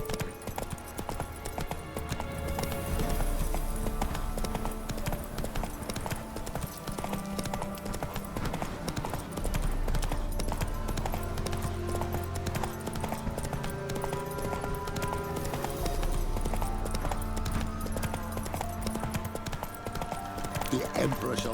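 Roach the horse gallops in The Witcher 3 through Velen, a steady, close clip-clop of hooves pounding over the ground with an occasional snort, while people speak over the hoofbeats.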